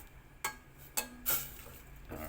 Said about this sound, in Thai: เดี๋ยวเขามาขัวเนื้อมันสุกก่อน